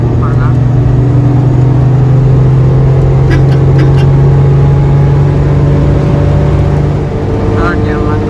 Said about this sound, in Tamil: நான் உங்களுக்கு தேர்ட் கியர் மேக்ஸ் அவுட் பண்ணுறேன் பாருங்கள்.